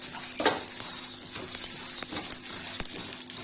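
Red chillies, a whole head of garlic, curry leaves and cumin sizzle and crackle in a hot pan, a steady close frying hiss with occasional stirring clinks and scrapes.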